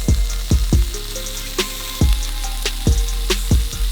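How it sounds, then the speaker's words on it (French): Wagyu beef fries in a rinsed pan with a loud, close sizzle, broken by sharp knocks and clatters from handling the pan, and no talking. "On rince un coup la poêle et on va faire cuire la viande."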